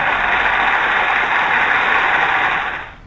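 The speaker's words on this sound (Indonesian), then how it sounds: "mesin digerakkan mundur sekarang." A ship's engine runs astern with a steady, loud mechanical roar that holds evenly before easing off at the very end.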